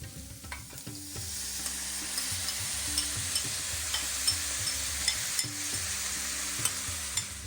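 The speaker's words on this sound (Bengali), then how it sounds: "খুন্তি দিয়ে নাড়িয়ে দাও, মিশিয়ে দাও ভালো করে।" A spatula stirs spices and vegetables in a hot pan, rhythmic scraping strokes repeating over a continuous sizzle of frying, heard up close with no talking.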